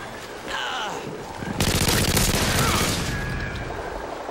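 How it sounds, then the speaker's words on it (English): A sentry gun in Modern Warfare 2 fires a sustained burst of rapid, loud automatic shots, preceded by quieter game sounds and distant chatter. "Oh my god, the sentry gun. It's still working."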